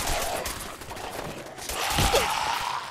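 Gunfire in the Fallout 4 video game crackles as dense, irregular bursts over a noisy background, with a few breathy gasps in the mix.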